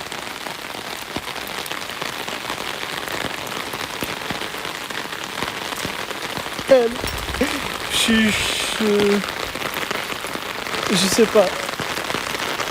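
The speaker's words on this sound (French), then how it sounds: "Je marche sous la pluie." Steady rain falling outdoors while someone walks, a dense continuous patter on surfaces, with someone speaking briefly partway through and a few louder bumps.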